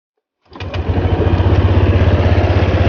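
A Honda Click 125i scooter engine catches after a short silence and settles into a loud, steady, close-up idle with a rapid even pulse and no talking.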